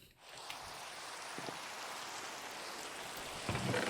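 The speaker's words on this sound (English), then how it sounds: "And hopefully the rain keeps up because I adore the rain sounds." Steady rain falls in Minecraft, a soft continuous hiss of drops spread evenly across the whole stretch, with a couple of faint louder patters near the start and end.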